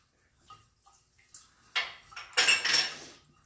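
A yeast mixture for pretzel dough is stirred in a bowl: faint scattered clinks at first, then louder scraping swishes and utensil knocks against the bowl.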